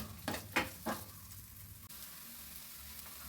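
Onions are added to a hot pan for a capsicum curry and fry with a faint, steady sizzle, following a few soft clatters of the onions and utensil going in.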